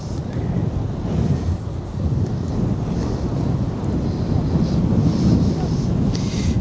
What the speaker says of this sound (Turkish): Burası acayip rüzgarlı bir yer.